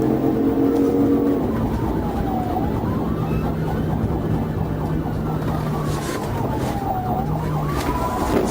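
Police car siren wailing during a high-speed dashcam chase, its slow rising and falling tone sweeping up and down over steady road and engine noise, loud and continuous throughout.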